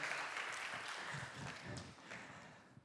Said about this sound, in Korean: 우리 주님께 감사와 기쁨의 박수, 우리 전사님께 격려와 또 감사의 박수 하겠습니다